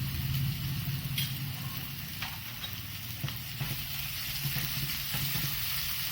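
Chopped ginger and garlic sautéing in a pan, giving a continuous close sizzle with low rumbling beneath and a few faint taps of stirring.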